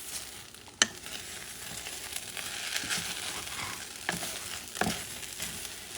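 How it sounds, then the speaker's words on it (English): Fish fried rice being stirred in a pot, a quiet sizzle under a few scraping strokes from the bottom, with a sharp clack of the spoon against the pot near the start and softer scrapes later. "Now what you do, you're going to stir this baby."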